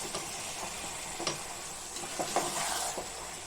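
Gongura prawn curry simmering in oil in a pan, a faint steady sizzle with a few soft stirring scrapes, no voices.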